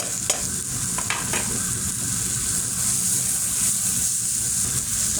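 Chicken pieces go into a pan of sizzling potato and carrot masala, a steady loud frying hiss with a few light scrapes of stirring early on.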